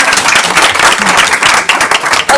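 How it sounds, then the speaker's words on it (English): Dense, loud applause from a school board meeting audience fills the room as a student stands to be recognized, steady clapping close by with no pauses. "you can come up, stand up at your spot so we can clap for you and cheer you on"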